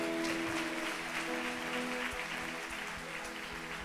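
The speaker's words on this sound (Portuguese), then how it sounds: "Você pode aplaudir o nome do Senhor Jesus?" Congregation clapping at an evangelical church convention service, steady applause mixed with sustained organ or keyboard tones, continuous for several seconds.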